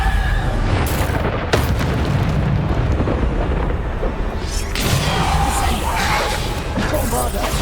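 Bombarda spell blasts in the game Hogwarts Legacy: a dense, loud stretch of booming explosions and crashes, with sharp bursts at intervals over a constant heavy rumble.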